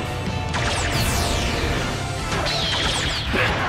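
Getter Robo's tomahawk slash attack in Super Robot Wars 30: loud crashing metallic impacts with sweeping whooshes and rising whines, dense and close, two main strikes over a continuous roar of effects.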